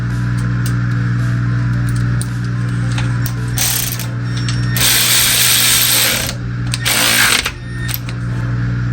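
A ratchet wrench tightens bolts one by one on an engine that won't start, its bursts of rapid clicking loud and close over a constant mechanical hum.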